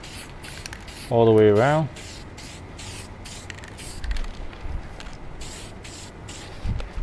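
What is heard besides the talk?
aerosol spray can spraying finish on wooden stool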